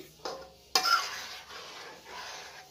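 Macaroni pasta stirred in a pan with a spoon, heard as soft scraping and a sharp metallic clack against the pan, followed by quieter swishing stirs.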